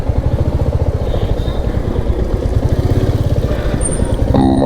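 A Royal Enfield Meteor 350 motorcycle thumps along steadily at close range with a loud, even single-cylinder beat, the engine rising slightly near the end.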